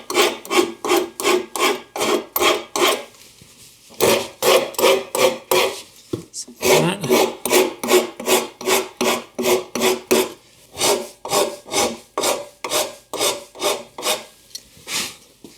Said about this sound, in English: I also like to come in here with a rasp, like that, and ease these corners right here